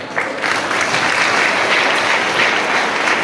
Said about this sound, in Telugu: సరిపోవు చప్పట్లు.